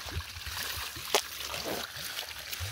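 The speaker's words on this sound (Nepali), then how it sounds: "यसले मस्त मुख धुँदै पानी खाइरह" Cold water splashes and trickles as someone washes their face and drinks at an outdoor water source, soft irregular splatters with one sharper splash and faint voices in the background.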